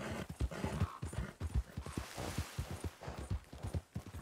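Horse galloping in the video game Red Dead Redemption 2, a quick rhythmic run of close hoofbeats pounding steadily throughout.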